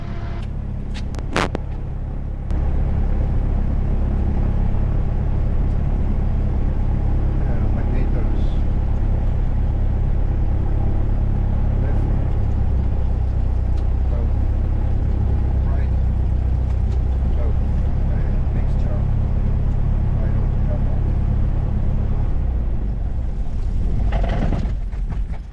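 A Cessna 172 engine idles at 1000 RPM during shutdown at Camden Aerodrome, a loud steady low rumble that continues throughout and cuts out near the end, with voices talking over it.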